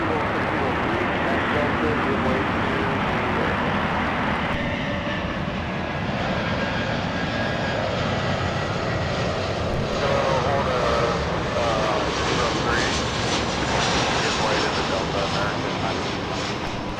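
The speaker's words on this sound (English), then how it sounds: "Former Northwest Airlines Airbus A319 about to touch down on 24 right." A former Northwest Airlines Airbus A319 landing on runway 24 right at LAX at night, its jet roar loud and sustained throughout as it nears touchdown, with someone talking over it.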